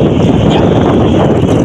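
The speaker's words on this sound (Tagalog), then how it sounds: "Napakalakas ng hangin." Strong wind blasts across a fish trap out on the water, a loud, constant roar buffeting the microphone with no break.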